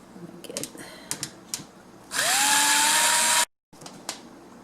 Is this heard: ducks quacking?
no